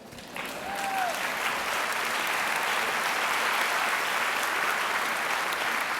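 Sustained applause from a large commencement audience at a Marian University undergraduate graduation, a steady dense clapping wash that fills the hall at even loudness throughout, with no voices over it.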